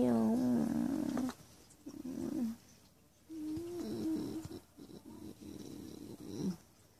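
Cat vocalizing close by with drawn-out meows and moaning yowls in several bursts, with quiet gaps between, heard indoors at home.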